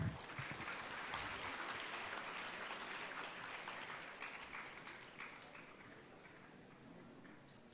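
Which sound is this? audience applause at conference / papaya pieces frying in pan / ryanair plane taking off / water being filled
audience applause at conference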